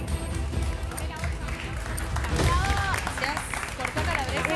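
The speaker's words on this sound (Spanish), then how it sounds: "El aplauso que reciben el Peque y Sofi por este primer plato entregado en la zona de degustación" A studio audience on a TV cooking competition final applauds two contestants as they hand in their first dish, a dense wash of clapping mixed with crowd chatter and voices talking over it.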